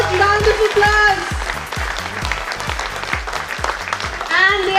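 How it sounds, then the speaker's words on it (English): Applause for the winning team at an inter-school quiz competition grand finale, crowd clapping under a booming amplified voice and rhythmic thumping music with a low beat. "Please give them a huge round of applause."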